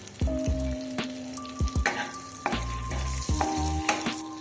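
Butter melts in a pan with cinnamon, black cardamom and mace, giving a soft, close sizzle broken by several clinks and scrapes of stirring.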